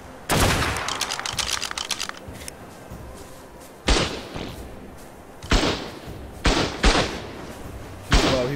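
Rifle fire in ARK: Survival of the Fittest, opening with a loud rapid burst of shots followed by several single heavy long-neck rifle cracks spaced a second or two apart, loud and close.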